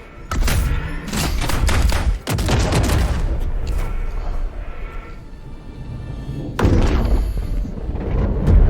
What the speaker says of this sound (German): Hellpod launch initiated.